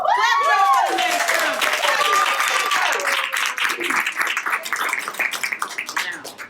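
A live audience at a veterans' comedy night claps and cheers in a dense burst that gradually thins out, with voices and a few whistles or squeals rising over the applause.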